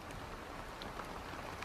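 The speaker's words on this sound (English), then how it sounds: "we've had this steady rain for several hours at this point" Steady rain falls near San Anselmo Creek during a Bay Area storm, a dense, even hiss of drops with no breaks, moderately loud and without voices.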